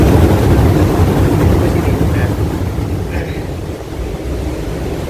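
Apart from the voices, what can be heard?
strong wind at the beach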